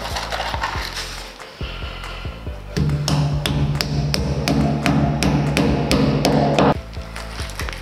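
A series of sharp hammer taps driving wall plugs into drilled holes for a composite door frame, brisk and fairly close, striking again and again in a quick, uneven rhythm over a low background hum.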